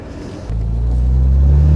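A 1962 Jaguar E-Type Series 1 3.8 Roadster engine catches and climbs into a loud, deep, close rev, a steady low rumble that swells after a brief quieter start.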